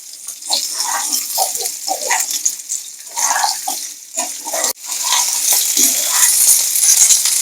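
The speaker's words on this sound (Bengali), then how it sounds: "কড়াইতে তেল দিয়েছিলাম, তেলটা গরম হয়ে গেছে। এবার আমি পটল আর আলুটাকে ভালো করে ভেজে নেব।" Pointed gourd and potato fry in hot oil in a wok, a loud steady sizzle with clattering stirs and scraping that swells after a sharp crackle midway.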